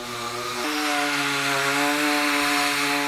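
A power tool cuts and smooths hard timber for a hanok-style interior, a steady loud whining buzz that steps up in pitch early on and then holds continuously, with no talking.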